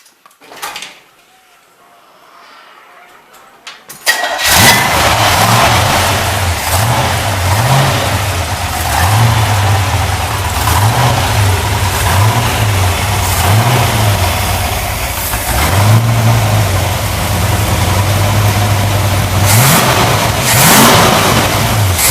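A restored dual-quad 409 V8 engine cranks to life after a few quiet seconds, then runs loud and close with repeated rhythmic revs rising and falling over a steady idle.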